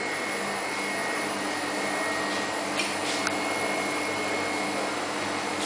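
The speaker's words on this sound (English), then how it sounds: "Now you can hear that a vacuum pump started" The vacuum pump of an IP MAL 900 meat tumbler drones in a steady, close mechanical hum with an airy whine. It holds level throughout with faint clicks midway and no talk.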